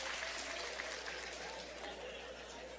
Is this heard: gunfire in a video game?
no